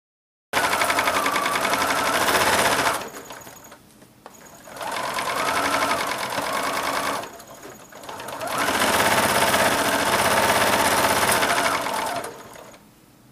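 A sewing machine stitches pinned strips of a miniature rail fence quilt top together, running in three steady, loud bursts with brief pauses between them.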